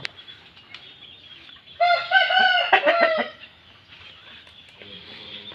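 An Aseel rooster kept at a home lets out one loud, clear crow lasting about a second and a half, surrounded by soft, faint clucking and quiet background before and after.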